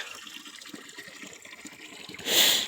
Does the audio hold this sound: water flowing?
yes